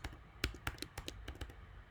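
Fingers type a password on a computer keyboard at close range, a quick irregular run of about a dozen crisp key clicks with short pauses.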